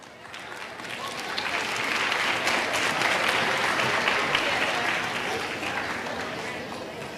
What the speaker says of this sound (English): Let's give our youth ambassadors another round of applause.